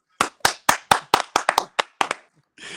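Hands clap as a salute on a podcast, about a dozen sharp, fairly close claps in an uneven rhythm, some in quick pairs, followed by a burst of noise at the end.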